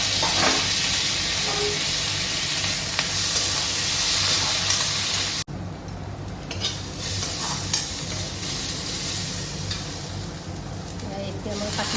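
Diced potatoes frying in a pan with onions for an Assamese fish curry with elephant apple give a loud, continuous sizzle with stirring scrapes, briefly cut off midway before the hiss resumes, with occasional speech over it.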